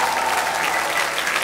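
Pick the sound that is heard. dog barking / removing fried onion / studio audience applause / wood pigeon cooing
studio audience applause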